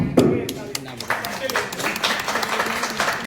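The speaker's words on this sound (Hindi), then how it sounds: "प्लीज एक बार जोरदार तालियां हो जाए।" An audience at an Indian film promotion event claps in a short burst of scattered, moderately loud handclaps, with a voice speaking over them.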